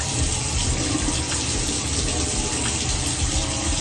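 Warm water runs steadily from a bathroom tap while a face is rinsed during a night-time skincare routine, a continuous close splashing hiss with small irregular spatters.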